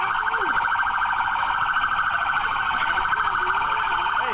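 A loud electronic police siren cycles in a fast, continuous warble, unbroken throughout with no voices, close and piercing.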